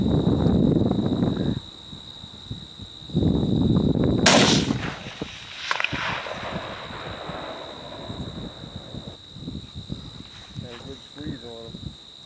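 A long-range rifle shot cracks sharply once during groundhog hunting in open country, followed by a fading echo, with insects chirping in the background and people talking quietly afterward.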